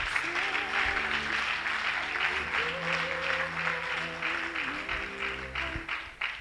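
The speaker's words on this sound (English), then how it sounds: "Can we energize and repeat that applause?" Audience applause at an anniversary and induction ceremony, continuous clapping that stays steady throughout, with a sustained tonal music or voice line running underneath.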